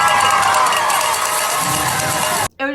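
A large crowd roars and cheers continuously at a Dallas Cowboys game in the stadium, loud and sustained before cutting off abruptly near the end.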